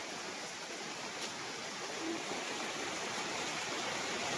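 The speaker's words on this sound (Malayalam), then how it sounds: "നല്ല മഴ പെയ്യുന്നു" Heavy rain pours down in a steady, dense hiss that stays even and unbroken throughout, with no voices.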